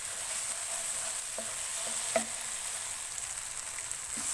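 Boiled, chopped potatoes being stirred into masala that has been frying in a pan, a steady close sizzle with a few soft scrapes and knocks of the spoon, no talking.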